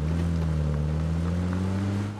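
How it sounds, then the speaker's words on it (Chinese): A motorcycle's engine in the PUBG video game gives a steady, unbroken, low tonal hum at constant volume, with no talking. "他开车走了。 拿摩托车。"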